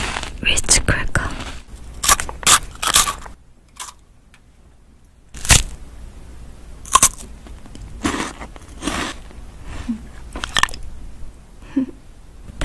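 Crisp, crunchy bites into Ritz crackers in a Korean commercial, several sharp bursts spaced irregularly with quiet gaps, close and loud, with brief soft speech between them.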